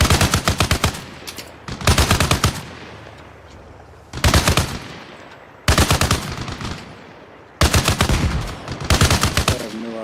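Bursts of automatic weapon fire in the military shooter game Arma Reforger, close and loud, arriving in several rapid-fire volleys separated by short pauses, with a faint background hum between them.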